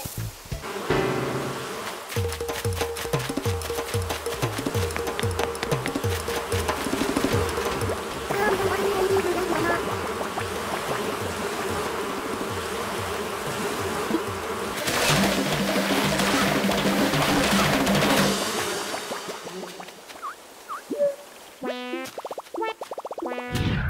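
Wasps in Animal Crossing: New Horizons produce a steady, loud buzzing drone, joined by bouncy cartoon game effects and light music, and the sound thins out near the end.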